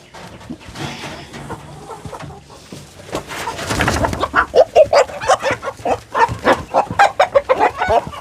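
A rooster in a backyard chicken coop clucks in a series of short, rhythmic bursts, close and fairly loud, growing busier toward the end with no talking over it.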